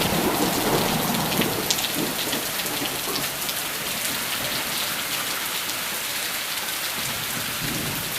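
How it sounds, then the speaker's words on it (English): Heavy rain pours steadily outdoors with a dense, loud hiss, while low thunder rumbles roll underneath; no talking. "Ooh, really rainy it is, too."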